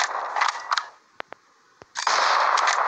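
Sniper rifle fire in the Zombie Gunship Survival video game: bursts of loud gunfire open and close the stretch, with three or four sharp isolated cracks ringing out in a quieter gap between them.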